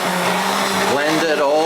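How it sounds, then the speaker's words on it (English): A handheld stick blender whirs through pumpkin soup in a pot, a steady broadband motor roar that shifts pitch as it churns, close and loud throughout. "So I've just got this stick blender here"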